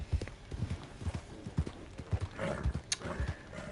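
Horse hooves clip-clop in a steady, repeated rhythm through Red Dead Redemption 2, close and moderately loud with a faint whinny-like accent near the end and no talk over it.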